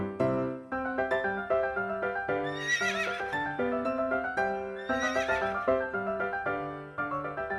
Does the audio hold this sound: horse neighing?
yes